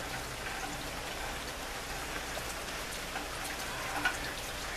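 Steady rain falling outdoors, a soft continuous hiss with faint scattered drop patters and no talking.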